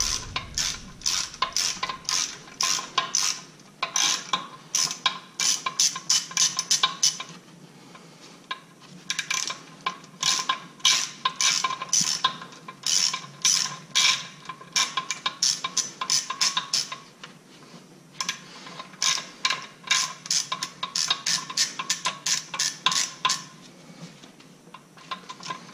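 A 10 mm ratchet on a 6-inch extension backs out the last two bolts on a 2014 Chevy SS during a supercharger coupler install, giving fairly faint runs of quick metallic clicks in repeated bursts with brief pauses.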